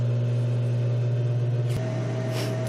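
A Ninja Foodi air fryer starts its cooking cycle with a steady low mechanical hum and whirring fan, joined by a brief click partway through and a faint higher tone after.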